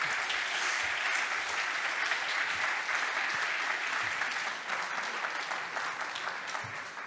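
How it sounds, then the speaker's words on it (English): A lecture audience gives a speaker on consciousness and quantum physics a steady round of applause, a dense, continuous wash of many hands clapping that holds for several seconds and then eases slightly near the end. "Let's give him another round of applause."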